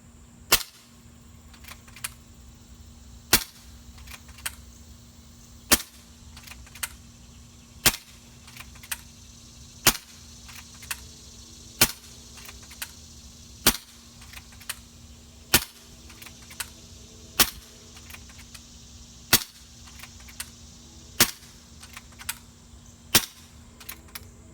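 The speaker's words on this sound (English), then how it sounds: "We're going to shoot one 12-shot magazine just to see what kind of power we're getting on low." A Kral Puncher Breaker air rifle on low power firing a 12-shot magazine: sharp, crisp cracks at steady intervals of about two seconds, each followed by a brief mechanical click, with a faint steady hum between shots.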